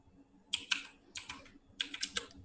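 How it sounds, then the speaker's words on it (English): Keys clatter loudly on a computer keyboard, three quick bursts of typing close to the microphone with brief pauses between them. "I'm just noticing how loud am I typing"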